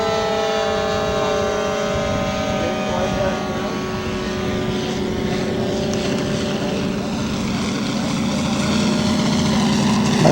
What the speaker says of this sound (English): Must be his flyby.